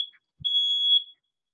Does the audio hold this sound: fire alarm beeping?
yes